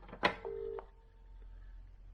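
A converted 1920s analog telephone gives a sharp click, then a short steady tone that cuts off, followed by a faint lingering hum and another soft click on a quiet line.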